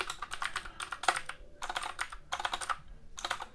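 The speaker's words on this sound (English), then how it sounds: "If I can type" Fingers tap a computer keyboard in steady clusters of close, crisp keystrokes separated by short pauses, entering a project name into a new list-app program.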